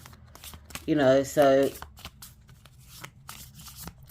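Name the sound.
shuffling a deck of oracle cards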